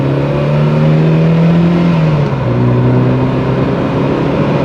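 Porsche 924 accelerating on a test drive: a loud, close engine note climbing steadily in pitch, briefly dipping at a gear change around two seconds, then rising again under constant road and wind noise.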